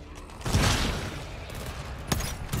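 Gunshots from a player's weapon in the game GTFO, a loud blast followed by a second sharper shot, close and heavy, with little talk.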